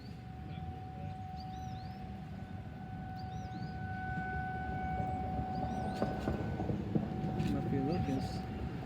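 Federal Signal 2130 tornado warning siren sounding from a city fire station, a faint distant steady wail over rumbling outdoor ambience, with brief voices and chirps scattered through.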